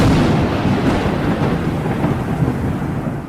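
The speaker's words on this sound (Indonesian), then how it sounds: "Rumah baru miliknya kena sambaran petir" Thunder from a lightning strike on a house rolls as a loud, continuous deep rumble mixed with a steady rain-like hiss, fading only slightly across the stretch.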